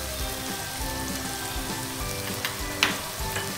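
Spices, turmeric, garam masala and paneer masala sauté in a hot pan for palak paneer, a dense continuous close sizzle with a few sharp clicks of a spoon against the pan.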